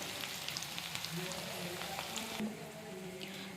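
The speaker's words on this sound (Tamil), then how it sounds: "இப்போ இந்த வெங்காயம் வந்து நல்லா கோல்டன் ப்ரௌனிஷாக வதங்கி வரட்டும்" Onions with curry leaves sautéing in a pan until golden brown for a mushroom, white chana and potato curry, giving a steady, soft sizzle with faint crackles throughout.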